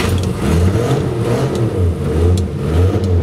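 A Dodge Aspen car engine running with an ignition fault, heard close and loud as a steady, rough rumble that rises and falls with light revving.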